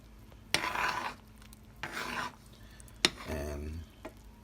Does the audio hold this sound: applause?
no